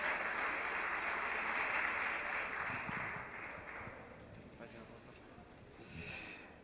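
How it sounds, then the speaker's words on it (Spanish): Church congregation applause during a service, clapping strongest at first and then thinning while voices speak and murmur over it, with a brief swell near the end. "darle un fuerte aplauso al Señor, en agradecimiento por esta palabra"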